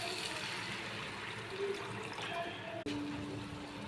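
Water is poured into a pan of curry made with dried fish and urad dal vadiyalu, giving a steady, soft trickling splash against faint kitchen background noise.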